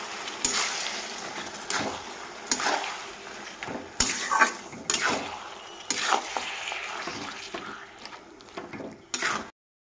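Chili, garlic and chopped tomato are stirred in a hot pan for mutton kosha, a spoon scraping in repeated bursts over a steady close sizzle, with no voices.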